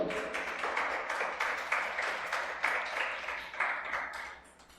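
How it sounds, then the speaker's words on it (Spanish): A church congregation applauds in praise during a Spanish-language service, moderately loud clapping in rhythmic waves with distinct individual claps, gradually tapering off near the end. "Den un aplauso al Señor."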